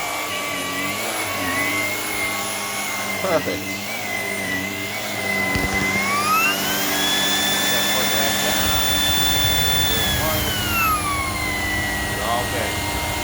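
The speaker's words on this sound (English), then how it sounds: "I needed to get over here anyways and vacuum a little bit." A Shark Power Detect IP1251 vacuum cleaner runs steadily with a rising whine midway, close by, while a person talks briefly over it.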